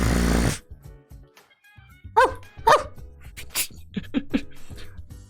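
A dog standing in for Cerberus gives several short, sharp barks and yips, scattered irregularly after a brief burst of noise at the start, with quiet gaps between the calls.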